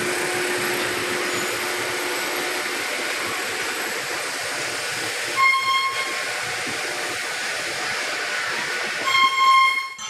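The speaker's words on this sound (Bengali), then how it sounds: "এইটা হচ্ছে আমার ট্রেন ডাউন মাটারা এক্সপ্রেস।" Down Matara Express train at a station: a steady loud rumble of the train with an electric hum, broken by two short tonal horn blasts near the middle and the end.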